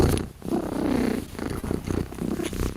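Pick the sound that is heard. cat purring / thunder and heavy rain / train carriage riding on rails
cat purring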